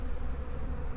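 Honeybees buzz at an open hive in a backyard apiary in late March: a steady, dense, close drone from many bees, with no talking.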